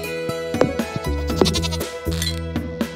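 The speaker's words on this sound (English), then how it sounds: "The goat is not what I want." Goat in the farming game Stardew Valley gives a few short bleats over steady game music, close and clear.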